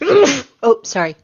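A single sharp human sneeze bursts out up close, followed by a person speaking briefly right after.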